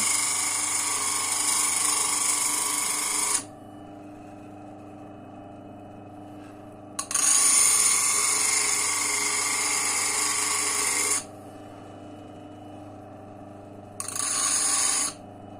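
A homemade bench grinder built from a washing machine motor sharpens a blade, giving loud, steady high-pitched grinding in three bursts separated by quieter motor hum, with no talk.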